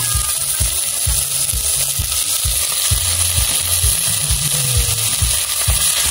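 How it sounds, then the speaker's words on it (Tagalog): Chicken meat frying in a small pan of oil with garlic and onion over a strong wood fire outdoors at Tagor, Candelaria, Zambales, a steady loud sizzle throughout with low thumps and knocks, no talking. "Ilalagay na po natin ito pong ating karne po ng manok."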